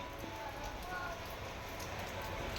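Monsoon rain falls steadily over a village, a dense, even hiss of drops on surfaces that stays close and constant throughout with no voices.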